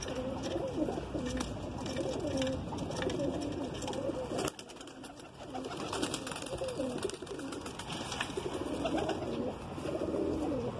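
Madrasi pigeons coo in repeated low, throaty phrases close by, with a brief dip in the middle and a steady hiss of background noise throughout.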